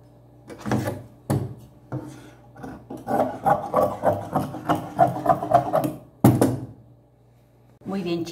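Scissors cut out fabric pieces for a small heart-shaped pocket purse, with close scraping and rhythmic snipping strokes plus a few soft knocks on the table, separated by brief pauses.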